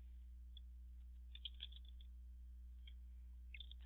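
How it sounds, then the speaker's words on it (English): Fast computer keyboard typing during electronic health record data entry, a few short bursts of light clicky keystrokes with pauses between them, close but faint over a steady low hum. "we are going to type in"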